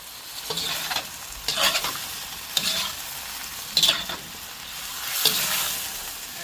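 Vegetarian shrimp and tofu sizzle steadily in a hot pan, with about five sharp, loud bursts of stirring and scraping spread over several seconds and no voices.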